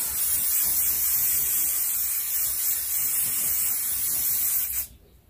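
Hairspray hisses onto hair in one steady, close spray lasting nearly five seconds, then cuts off abruptly into near silence.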